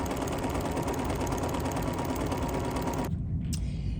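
An embroidery sewing machine stitches through a quilt layer in a steady, dense mechanical whir, close and loud, running continuously before cutting off abruptly near the end.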